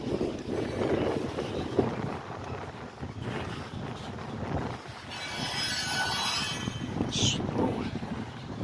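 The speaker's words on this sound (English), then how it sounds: "let you listen to the train" A Norfolk Southern freight train with heritage-painted locomotives rumbles past outdoors, a steady broadband roar of wheels and engines with wind buffeting the microphone and a brief high squeal midway.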